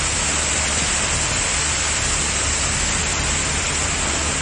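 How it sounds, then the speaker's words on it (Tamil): Heavy rain pours down in Hosur, a dense steady roar of rainfall that stays loud and unbroken from start to finish, with no distinct thunderclap standing out. "இடி மின்னலுடன் மழை வெளுத்து வாங்கியது"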